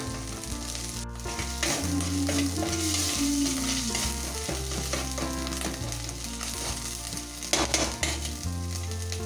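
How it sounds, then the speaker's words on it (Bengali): Ground ginger and garlic paste sizzles and fries in a pan, a loud continuous hiss and crackle with stirring scrapes and a steady low hum underneath. "দেখো আদা আদা রসুন ভাজা হচ্ছে"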